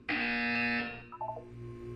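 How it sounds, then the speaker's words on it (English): Buzzer in the Portal 2 video game, a single loud, harsh sustained buzz lasting under a second, followed by a faint brief electronic chirp over a low background hum. "You will hear a buzzer."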